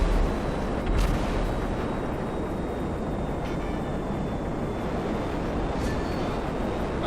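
F-15E Strike Eagle jet in GTA 5 flying low and attacking a freeway, a steady heavy roar of engine and gunfire noise with a few sharper bursts, loud and constant throughout.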